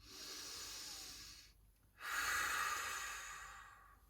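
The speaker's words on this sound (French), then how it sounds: "Prendre encore 2 dernières respirations ici." Slow, deep breaths during a yoga relaxation session, a soft, close airy exhale, a short pause, then another long, gentle hissing breath that slowly fades.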